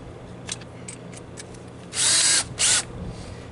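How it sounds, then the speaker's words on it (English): A power drill drives a 3-inch drywall screw into hardwood, sounding as two loud, close whirring bursts, the first longer than the second, with a brief pause between them and no talking. "So I'm going to put a screw in here as far out as I can."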